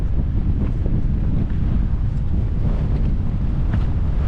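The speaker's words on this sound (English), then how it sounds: "Oh, it's windy." Strong wind buffets the microphone in a continuous low roar at Darwen Tower, gusting without letup.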